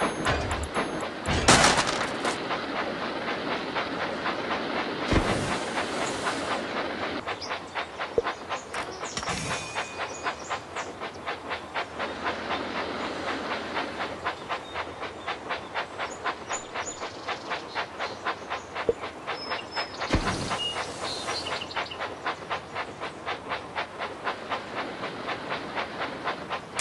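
A toy Thomas train set runs along its track with a rapid, regular clicking rhythm and faint whirring, punctuated by a few sharp louder clacks and bursts over roughly half a minute, no talking.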